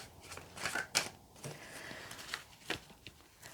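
Tarot cards are shuffled by hand in a quiet room. Soft papery riffles and slaps come in uneven bursts at a moderate, close level, with no talking.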